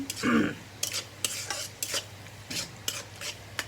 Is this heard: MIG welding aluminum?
no